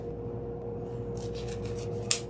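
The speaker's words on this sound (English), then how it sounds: "put your scissors in that fold. Cut it." Scissors snip through folded material for a homemade Christmas wreath, a few soft rustling cuts followed by one sharper, close snap near the end, over a steady low hum.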